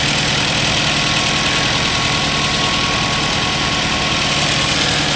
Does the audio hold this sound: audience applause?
no